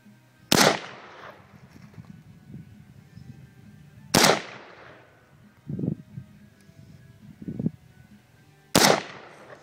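Three loud, sharp AK rifle shots, each a hard crack with a ringing decay, spaced about four seconds apart, with softer dull thumps and low rumble in between.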